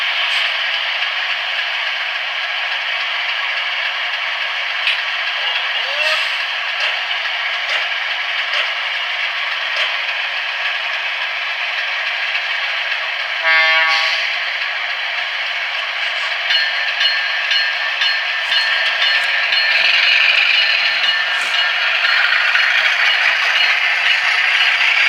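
A model diesel locomotive with a Tsunami2 sound decoder plays the sound of a supercharged, turbocharged 251 prime mover while hauling a short passenger train. A steady, tinny engine drone runs throughout, mixed with faint mechanical rattles and scraping.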